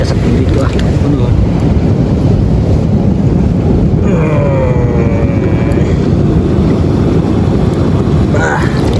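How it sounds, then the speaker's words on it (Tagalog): Loud wind buffets the microphone over rushing, strong ocean waves on a moving boat off General Nakar, Quezon, with a voice talking faintly in the roar. "Malak na po ang alon."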